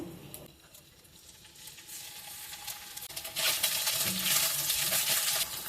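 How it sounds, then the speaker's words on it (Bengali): Paneer pieces hitting a kadai of hot white oil and frying, a steady crackling sizzle that swells louder and brighter partway through and then holds, close by with no talking. "তেলটা গরম হয়ে গেছে, এর মধ্যে এবার আমি পনিরগুলো দিয়ে দেবো।"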